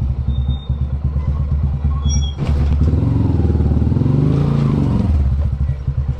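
A motorcycle engine warming up after its tarp is pulled off on a cool morning, a steady low idle rumble that swells louder partway through, with some clattering handling noises before it.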